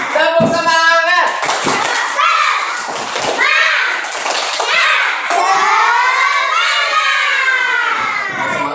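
A classroom of children in an Islamic religious education lesson performs a spirit clap, with loud, close voices chanting and shouting together over bursts of rhythmic hand clapping.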